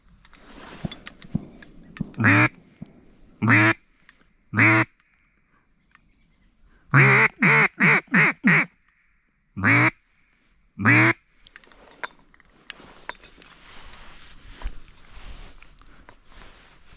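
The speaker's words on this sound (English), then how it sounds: "the mallards are back" Mallard or wood duck quacks ring out in several loud, separate bursts, some in quick runs of four or five calls, set against quiet wetland background during a Wisconsin duck hunting opener.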